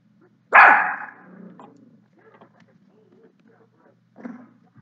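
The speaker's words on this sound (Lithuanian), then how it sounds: "šuo loja." A dog in a video game gives one loud, close bark, followed by a low growl and a faint second yelp a few seconds later, with no other sound around it.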